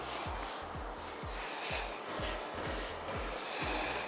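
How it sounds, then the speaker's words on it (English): A fiberglass car hood on a Cadillac CTS-V is sanded by hand with 400 grit sandpaper. Rhythmic back-and-forth rasping strokes repeat about twice a second, close and steady, over a hissy background. "So it's just going to sand it with 400 grit."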